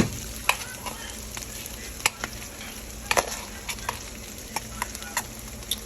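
Eggs and rice frying in a hot pan give a continuous sizzle, broken by frequent sharp scrapes and clicks of stirring at irregular intervals, close and alone without talk.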